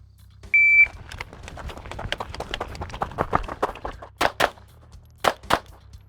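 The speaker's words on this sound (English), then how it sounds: "Tried to anticipate the beep. It's on a delayed random timer" Shot timer beep on a delayed random start sounds once as a clear steady electronic tone near the start, followed by a string of sharp impacts and clicks and two louder bursts toward the end.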